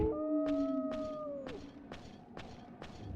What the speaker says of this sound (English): Listen to that same wolf howl over and over again.